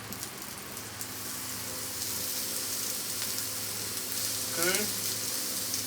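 Onions fry in olive oil on a Blackstone griddle with a steady dense sizzle and crackle, close and constant, while a voice speaks briefly.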